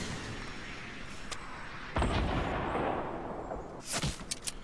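Gunfire in Fortnite, a few sharp shots and bursts, the loudest around the middle and a rapid cluster near the end, over steady game background noise.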